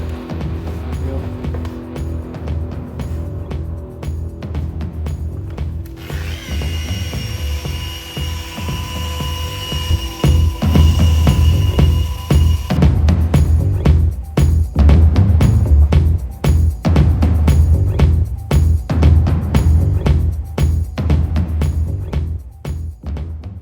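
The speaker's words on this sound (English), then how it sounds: "this is only the fourth stage of polishing" A machine polisher whirs steadily while correcting the paint on a TVR sports car, its pitch rising and falling as it is worked across the panel, loud and close with occasional clicks and knocks.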